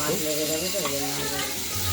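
Rohu fish pieces rubbed with salt and turmeric sizzle in hot oil in a kadai, a steady frying crackle under a speaking voice.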